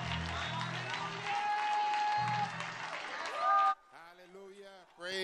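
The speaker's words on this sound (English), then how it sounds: "Let's give the Lord a clap offering." A church congregation claps together in a loud burst of applause offered as praise, mixed with music and sustained tones before it cuts off and a voice speaks.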